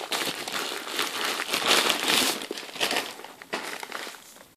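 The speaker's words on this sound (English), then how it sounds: "So I've unwrapped the" Bubble wrap being peeled off a pair of red Nike Roshe Run shoes, a close, steady crinkling and crumpling of plastic lasting several seconds, with no talk over it.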